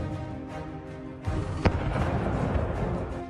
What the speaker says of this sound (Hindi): वीडियो में आप हमला करने वाली मिसाइलों को देख सकते हैं कि किस तरह से धमाकों से यूक्रेन दहल उठा